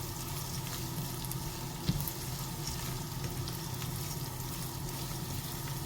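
Spiced minced meat stuffing for zucchini dolma is stirred and mixed in a pan, giving a continuous soft sizzling, scraping texture with one brief knock, fairly close and steady with no talk.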